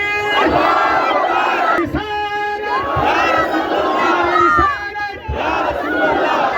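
A large crowd at a religious celebration roars a slogan back in unison, loud and close, in repeated surging waves of massed shouting.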